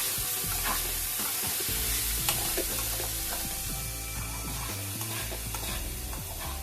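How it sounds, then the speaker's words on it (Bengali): Banana blossom fries in oil in a pan as a spatula stirs it, with loud continuous sizzling and repeated scraping strokes close by, and no voices. "কিছুক্ষণ পর ঢাকনাটা তুলে নেড়ে দিব।"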